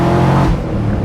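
BMW Z8 fitted with Supersprint headers, sports cats and full exhaust revs hard, giving a loud, close, snarly engine roar in a brief burst.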